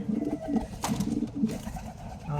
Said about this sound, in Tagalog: ang ating ibon na si Blue Check.